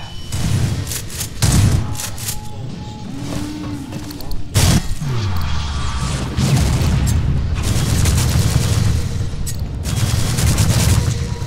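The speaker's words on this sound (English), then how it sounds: "Why do you shoot so fast?" Rapid gunfire and heavy booms in a modded Star Wars Phantom Menace video game, loud continuous bursts of shots over rumbling explosions for the whole stretch.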